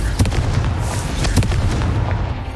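A Confringo fire spell detonates in Hogwarts Legacy, with several sharp booming bursts going off over a dense, rumbling combat din.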